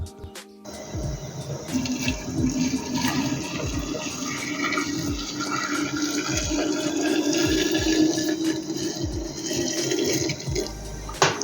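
Boiling water pours steadily into a glass jar of red cherries with a continuous splashing, gurgling rush, accompanied by scattered low knocks and thumps.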